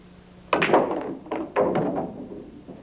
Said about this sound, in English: I'm going to try to give you an example of a carom shot